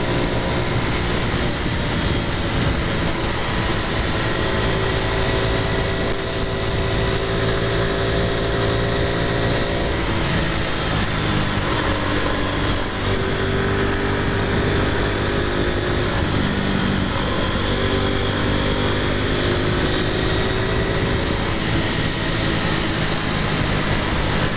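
Honda Pop 110 motorcycle engine accelerating on an uphill climb, a loud, continuous droning buzz with rising and falling engine tones and heavy wind rumble, close to the recorder and with no speech.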